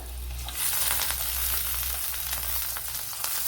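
Garlic and ginger sizzling in hot oil for a quail egg stew, a dense steady crackle and hiss with a low hum beneath, popping bursts scattered throughout, close and loud, no voices.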